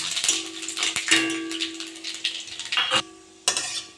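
Crackling sizzle of panch phoron and three dried chillies frying in hot oil for jujube pickle, bursts of popping and hissing with a few sharp clinks, brief near-silent gap near the end.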